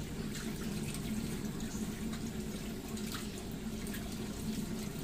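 Steady water running from a tap, a continuous hiss and splash with no pauses, close by.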